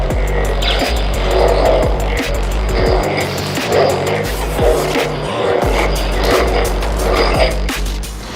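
Spinning double-bladed Maul lightsaber staff from a Ventress/Maul SN Pixel V-4 set gives a loud, continuous hum with a low drone and rhythmic swooshing swells as the blades rotate, with no talking.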